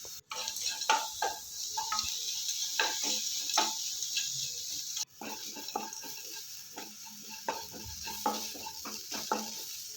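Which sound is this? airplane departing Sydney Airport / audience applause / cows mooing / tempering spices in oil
tempering spices in oil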